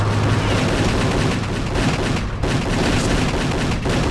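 Rapid pistol fire in Return to Castle Wolfenstein, a co-op first-person shooter, with dual pistols firing in dense, steady bursts that fill the clip loudly and without pause.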